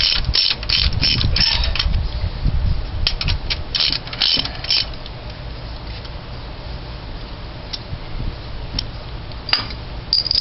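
A ratchet works a long bolt free from a Ford 400 engine in a 1978 Continental Mark V, with bursts of quick clicking pawl strokes near the microphone, then sparser clicks and pauses.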